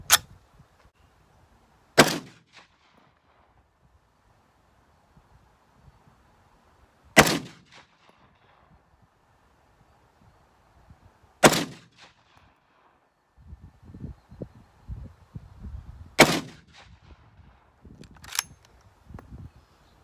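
A Remington Model 8 rifle fires four rounds, sharp loud cracks spaced several seconds apart with a faint extra snap after the last, and quiet handling noise between shots.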